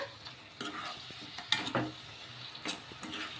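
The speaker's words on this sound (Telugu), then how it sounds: "ఇప్పుడు ఈ వడల్ని నిదానంగా కలుపు మొత్తం కలిసేలాగా" Vadas being stirred slowly in a pan while cooking without frying in oil, with soft scraping stirs and gentle sizzling in short bursts, no talk.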